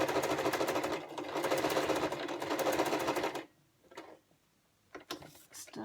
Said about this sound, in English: that's the first pleat sewn, and I'm stitching very close to the edge now